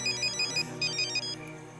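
A phone ringtone sounds in quick repeated electronic bursts, a bright regular melodic pattern that pauses briefly partway through, heard clearly and alone.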